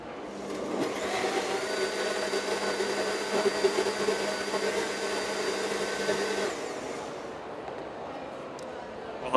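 A blender whirs loudly and steadily for about six seconds, then cuts off, leaving a quiet room.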